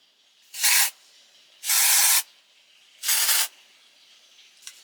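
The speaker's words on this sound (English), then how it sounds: "spray my dry shampoo." Three short bursts of dry shampoo aerosol spray, each a sharp, close hiss lasting about half a second, separated by brief pauses, with a faint click at the end.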